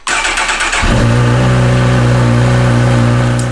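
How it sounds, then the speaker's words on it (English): A motorbike engine catches after a brief crank, then settles into a loud, steady running drone with a slight rise in revs, heard up close with no talking. "let me start the motorbike"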